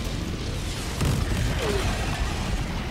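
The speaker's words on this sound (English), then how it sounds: "Cluster bomb." Cluster bomb explosions in Helldivers 2, a dense rumbling wall of booms that swells around the one-second mark and keeps rolling steadily, loud and continuous with no clear gaps.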